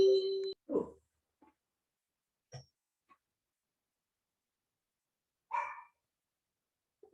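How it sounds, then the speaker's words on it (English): A dog barks in the background during an online call, a few short, separate barks spaced seconds apart, faint and distant in an otherwise quiet room. "my dog's barking in the background"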